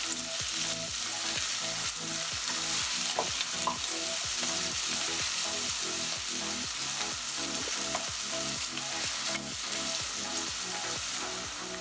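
Onions frying in a pan until golden brown for chicken curry, a continuous sizzle with a steady rhythmic scrape of stirring roughly every half second, alone and without speech.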